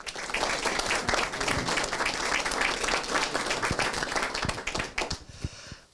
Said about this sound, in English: So round of applause for everyone, please.